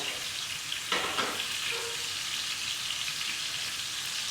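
Ahi tuna searing over medium-high heat gives a steady, even sizzle, with a brief scrape and clatter near the start as the pan is shifted on the burner, close and fairly soft with no speech.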